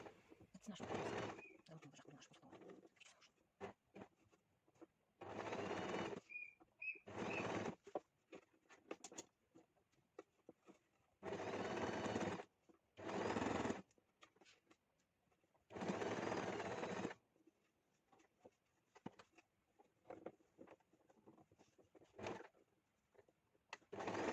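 A sewing machine with a special presser foot stitches along a dress edge in several short whirring bursts separated by pauses, fairly faint, with occasional soft clicks in between.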